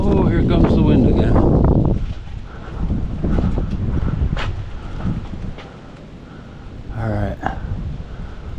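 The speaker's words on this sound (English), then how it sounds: "Oh, here comes the wind again." Wind gusts outdoors at the oceanfront Eolia mansion in Harkness Park, buffeting the microphone in loud rumbling surges that ease off and then return, with brief faint voices near the end.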